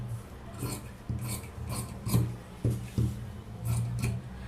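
Scissors cutting away extra blouse fabric on a tailoring table, a series of close, soft rasping snips in an uneven rhythm, heard alone without talk.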